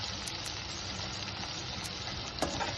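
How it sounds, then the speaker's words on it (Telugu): Chopped onions, green chillies and tomato sizzle steadily in hot oil for ragi upma, a dense continuous frying hiss with faint stirring clicks, close and fairly loud, no voices. "ఇవి మంచిగా కలుపుకొని బ్రౌన్ కలర్ వచ్చే వరకు వేయించుకోవాలి"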